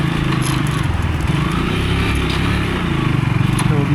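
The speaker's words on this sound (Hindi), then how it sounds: "अभी मेरे बगल से बाइकर निकल रहे हैं।" Motorcycles pass by on a steep mountain road near a river on the way from Pokhara to Mustang, Nepal, their engines a steady close drone with rhythmic pulsing, a voice faintly in the background.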